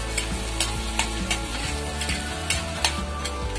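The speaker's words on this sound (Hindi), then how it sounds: "मैंने इसमें प्याज को बस इतना सा ही अभी भुना है" Onions lightly sautéing in a pan for Indian-style pasta: a steady close sizzle with repeated scraping stirs of a spatula against the pan, no voices.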